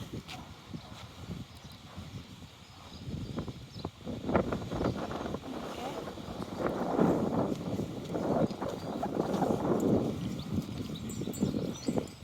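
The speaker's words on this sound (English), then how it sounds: "Windy up this bit." Gusty wind at Roundham Gardens, Goodrington, buffets the microphone in rumbling surges that swell louder midway, with faint rustling and scattered soft thumps underneath.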